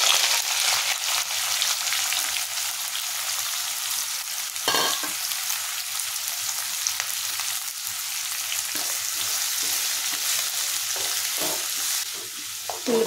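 Onions and green chillies fry in a pan with a loud, continuous close sizzle, broken by a few sharp stirring scrapes.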